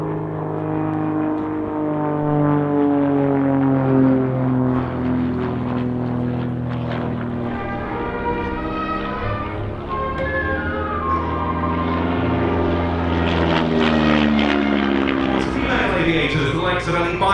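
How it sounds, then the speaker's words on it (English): A Tutor propeller aircraft flying a stall turn at an airshow, its engine droning loudly and continuously with the pitch rising and falling as it maneuvers. "he will be using the rudder to turn the aircraft through a stall turn"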